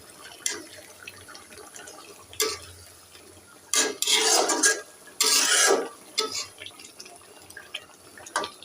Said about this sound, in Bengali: একটু উল্টায়ে পাল্টায়ে দিই